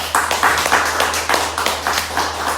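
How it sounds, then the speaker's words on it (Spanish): Audience at a Santa Muerte religious gathering claps in a loud, dense burst of applause, steady sharp hand claps filling the space close by, with no talk over it. "Les pido otro aplauso para nuestra Santa Muerte."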